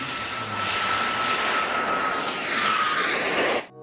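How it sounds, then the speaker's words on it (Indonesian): A toy airplane sounds its engine effect: a loud, steady whooshing roar with a thin high whine on top. It runs for nearly four seconds and then cuts off abruptly. "Keluarlah pesawat terbang."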